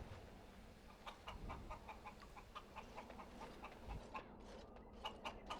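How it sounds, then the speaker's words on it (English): A chicken in the video game Dragon Age: Origins clucks in a series of short, quiet bursts over low game ambience, with no speech. "Did it just kill a chicken?"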